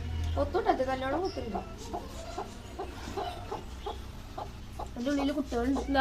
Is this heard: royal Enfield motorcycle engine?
no